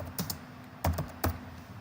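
Three short bursts of keystrokes on a computer keyboard while entering a shear key in base plate detailing software, close and quiet, alone with no talk.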